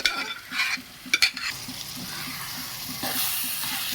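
Cooked spinach is stirred into a potato curry in a pan, with close scraping stir strokes over a steady sizzle, a few sharper clatters early on and frying hiss throughout.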